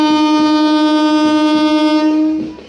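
An Amrit Bharat Express train at Bhimavaram Town railway station sounds a loud, steady horn blast close by, with rhythmic wheel clatter beneath, before the horn cuts off and the sound fades.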